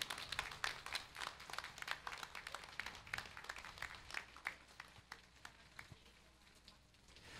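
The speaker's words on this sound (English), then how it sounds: "A nice round of applause for all of them." Applause for war survivors at an outdoor Liberation Day ceremony: scattered, crisp claps from a modest crowd, brisk at first and gradually thinning toward the end.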